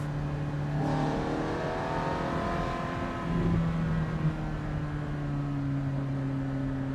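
A 2008 Ferrari F430 Spider with a six-speed manual gearbox, top down, drones steadily from inside the cabin, a brief dip and rise in engine pitch marking a gear change before the tone holds on.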